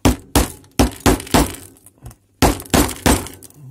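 A light bulb is smashed with a hammer in a series of loud, close blows, each followed by shattering, clinking glass, with a brief pause midway.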